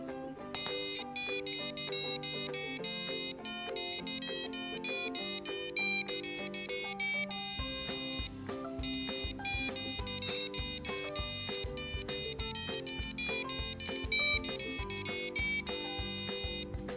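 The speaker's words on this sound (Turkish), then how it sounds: "birinci buton Crazy Frog, ikinci buton ise Final Countdown isimli müziklerin çalmasını sağlayacaktır" A buzzer wired to a Raspberry Pi 3 board beeps out the Crazy Frog and Final Countdown melodies as sharp, electronic tone sequences, loud and close, with a short pause between the two tunes.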